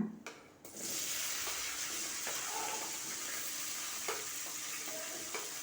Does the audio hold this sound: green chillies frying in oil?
yes